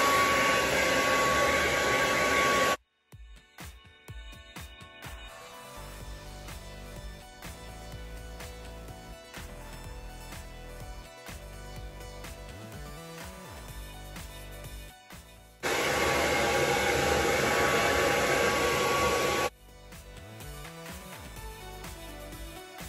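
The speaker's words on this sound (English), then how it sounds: "before I finish drying my hair" A Revlon hair dryer blows on wet hair in a loud, steady broadband roar for about three seconds, cuts off, then returns for another burst of roughly four seconds near the end, with quieter handling noise between.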